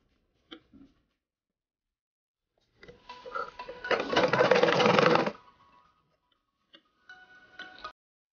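A sewing machine stitches around the neck of an umbrella frock in short runs of rapid mechanical ticking, one longer burst in the middle and a brief run near the end, separated by silent pauses.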